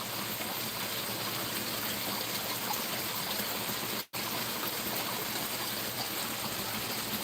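Water splashing from a garden pond pump, a steady broadband rushing trickle like a small stream, continuous and close, with a brief dropout near the end.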